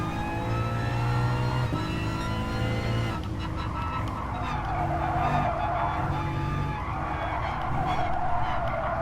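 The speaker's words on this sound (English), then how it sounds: "See if this car can do donuts." An all-wheel-drive car in a racing sim whines at high revs as its tyres screech and skid through donuts on a skid pad, a continuous loud squeal over the straining engine.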